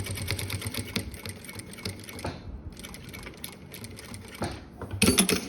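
A sewing machine stitches bias binding onto a fabric cosmetics case, a close, steady mechanical chatter with short pauses and a louder burst at the end.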